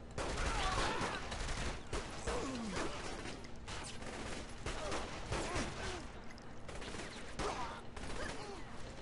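Rapid bursts of automatic gunfire and scattered shots from the Saints Row: The Third game crackle steadily and loudly across the stretch, with brief lulls between volleys and a player's voice faintly under the shooting.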